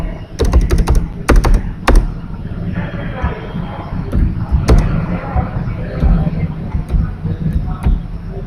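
Clicks and taps of a computer keyboard being typed on, a few sharp clustered keystrokes early and scattered single taps later, close and fairly loud under a voice talking.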